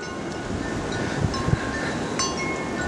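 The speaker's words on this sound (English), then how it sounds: "So, come on, wind. This is all you got." Strong gusting wind during a 2009 windstorm, a steady broadband roar with faint rustling and a couple of brief thumps, heard outdoors with no talking.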